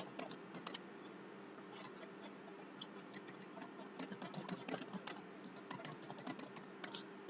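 Someone types a name on a computer keyboard: a steady, rapid patter of close keystrokes with no pauses and no voices over it.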